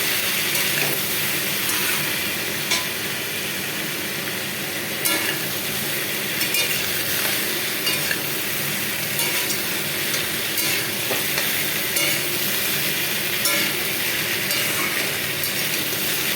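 Chopped vegetables and Malabar spinach fry in a hot pan with a steady, close sizzle, broken by repeated scraping and clicking as a spoon stirs them.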